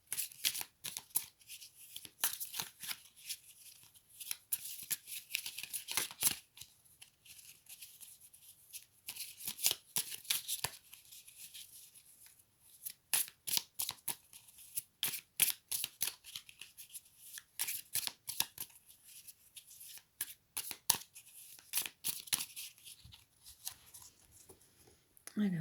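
A deck of cards being shuffled and cut during a tarot-style reading, with quick riffling and snapping bursts repeating throughout, close and crisp, while a voice talks quietly in the background.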